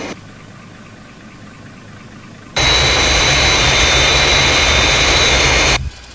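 The Fireflash jet airliner from Thunderbirds approaches the runway as a sound effect. A loud, steady jet roar with a high whine starts suddenly, holds for about three seconds, then cuts off.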